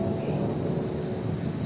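Steady rain falls continuously in an outdoor garden with calamansi trees, with a low rumble of thunder mixed into the constant wash and no voices.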